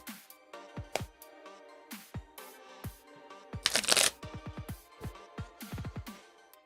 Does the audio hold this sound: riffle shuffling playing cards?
yes